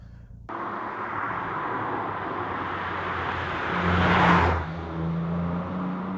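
A 2018 Ford Fiesta ST's 3-cylinder 1.5-litre EcoBoost petrol engine drones steadily, then revs up into a louder, rising surge before easing back to a lower hum.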